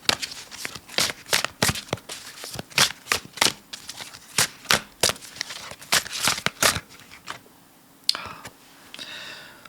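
A deck of tarot cards is shuffled by hand in quick, crisp riffles and slaps, a rapid irregular run of close papery bursts that thins out toward the end.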